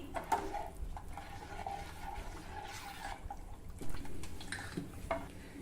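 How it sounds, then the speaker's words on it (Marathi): Kadhi, a yogurt curry, bubbles at a boil in a pot. The low, soft bubbling goes on steadily and is joined by occasional clinks and stirs against the vessel. "हे कढीला किती मस्त उकळी आली"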